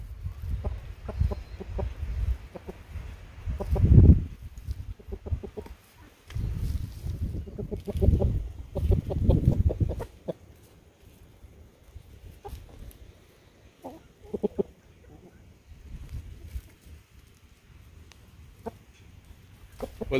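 Chickens on a farm clucking and rustling as they scratch through mixed-in crushed biochar, with irregular nearby clucks and scuffing bursts, some louder stretches early, then sparser softer sounds.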